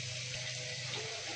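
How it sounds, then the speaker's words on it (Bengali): Boiled dal and potatoes tip into hot frying masala in a pan, a soft continuous watery sizzle and gurgle, close and quiet, lasting about a second with no talk. "দেখো আমি এখানে ডাল আর আলুগুলো ঢেলে দিয়েছি।"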